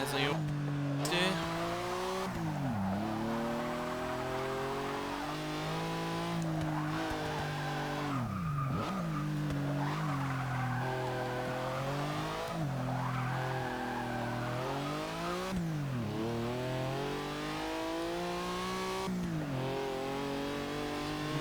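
A 1982 Porsche 911 Turbo with its original long-geared four-speed, driven in Forza 6, revs hard in repeated rising sweeps broken by gear changes, while tires squeal and skid through corners close up and loud.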